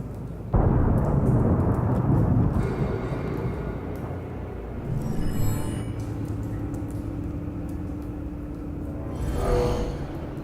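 A loud explosion at the East Side Docks warehouse in the Telltale Batman game: a sudden heavy blast, then a long rolling rumble. Later a lighter whoosh and a second swell follow, with no talking.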